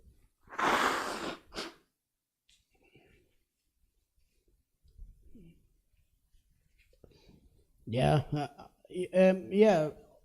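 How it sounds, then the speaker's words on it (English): A forceful nose blow near the start, a loud breathy honk lasting about a second, followed by quiet rustling and then someone talking. "So I will blow my nose."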